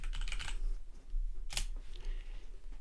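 Computer keyboard keys click in short bursts while someone types in an office. Quiet, close taps, mostly around the start and again near the middle, with no speech.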